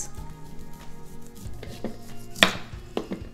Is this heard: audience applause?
no